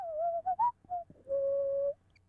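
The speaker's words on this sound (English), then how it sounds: "Why can't I whistle?" A person whistling a short, wavering tune, a few quick broken notes followed by one longer held tone, close and fairly faint, with no talking.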